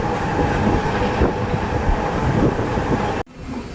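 Simhadri Express passenger train running past Satyawada halt station, a loud steady rumble with rail clatter throughout, cutting off sharply near the end to a quieter, muffled background.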